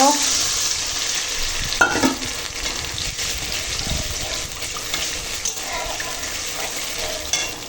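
Turmeric water pours steadily into a hot pot of rice and lentils, hissing and sizzling as it hits, with a continuous watery rush throughout.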